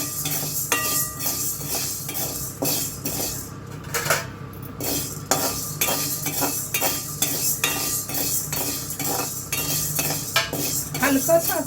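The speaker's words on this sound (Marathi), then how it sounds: "आता साबुदाणे आपण भाजून घेऊ" Sago pearls dry-roasting in a pan are stirred continuously, giving a busy close-up scrape and clink of spatula on metal with a rattle of grains throughout.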